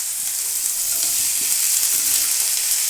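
Long-sliced onions and potato pieces frying in hot oil in a pan, giving a steady, bright crackling sizzle with a few soft stirring clicks and no talking.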